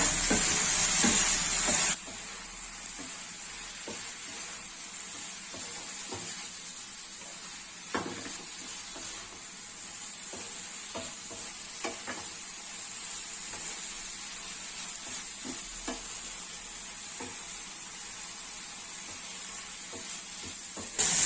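Cut idli pieces stirred into tomato masala in a hot pan, a soft continuous sizzle with faint scraping and stirring taps scattered throughout, no speech.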